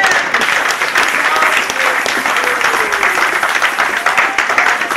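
A church congregation applauds the Lord with dense, sustained clapping from many hands. It stays loud and even across the whole stretch, with faint voices mixed into the crowd.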